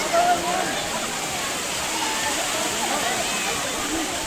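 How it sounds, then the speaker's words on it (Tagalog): Daranak Falls in Tanay, Rizal, pouring with a constant broadband rush of falling water, even and unbroken from start to finish. "nandito na tayo sa Dalanak Falls"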